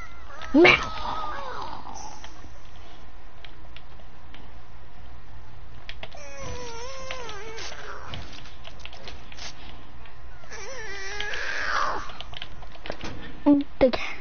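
Cat meowing indoors, a few short mews spread across the recording with long quiet gaps between them, fairly faint against low background hiss.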